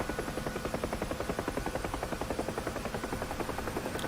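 UH-1 Huey helicopter in the DCS flight simulator with its engine throttled back to ground idle, rotor blades beating in a steady, rapid rhythmic chop over a constant turbine hiss, no talking.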